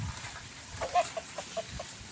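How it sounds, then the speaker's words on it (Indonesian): Chickens in an Indonesian village cluck in a string of short, close, soft calls spread across the clip, with a quiet outdoor background and no talking. "Ayam. Ayam."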